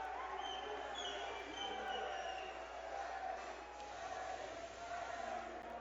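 Crowd noise from spectators at an MMA bout at the end of round one, a steady roar of cheering and shouting at moderate distance that runs continuously beneath commentary.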